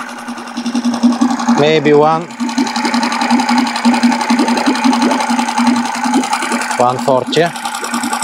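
A Mercury 3.5 hp outboard motor fitted with a larger carburetor and alloy prop runs steadily with a buzzing, rattling drone as someone speaks briefly over it twice.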